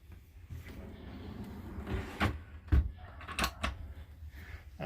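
Large drawers in a Dodge Ram Promaster camper van conversion slide open and shut, giving several short sharp thumps and sliding scrapes close by, separated by quiet pauses.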